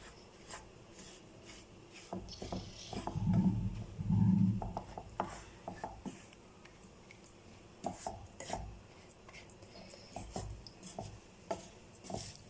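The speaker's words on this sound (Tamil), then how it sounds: "2 மினிட்ஸ் நம்ம இப்படியே ஃப்ரை பண்ணிக்கிட்டே இருக்கணும்." Homemade rasam spice mix stirred and dry-fried in a pan over a low flame: soft, steady scraping and rubbing of a spoon against the pan, with a few louder clatters, close and quiet, with no talking.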